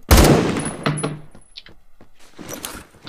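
Gunfire in the Roblox shooter Phantom Forces, a sharp close burst of shots at the start followed by a few scattered fainter cracks and clicks, with no talk.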